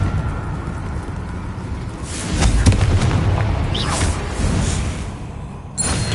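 A Confringo fire spell bursting in Hogwarts Legacy inside a cavern: a rumbling blast rolls out over a steady noisy background, with thunder-like crackling peaks and a long boomy decay, loud and close.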